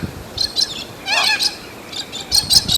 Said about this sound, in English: we've got a little corella perched up high, making a fair bit of noise.